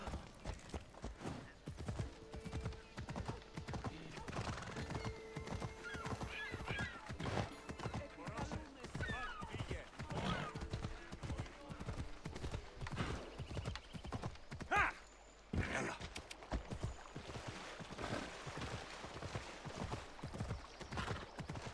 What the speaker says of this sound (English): The horse doesn't want to go into the market